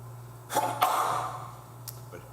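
A person sneezes during a plan commission meeting, a sharp burst followed by a brief breathy tail, over a steady low hum of a quiet room, with a smaller click later.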